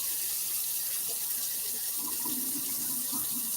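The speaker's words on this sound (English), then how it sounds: "So now I'm going to wash the greens and put them in the pot." A kitchen tap runs steadily while mustard and collard greens are washed, giving a continuous close hiss with faint splashes and no voices.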